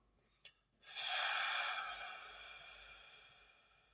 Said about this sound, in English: Now begin by exhaling all the air out of your lungs,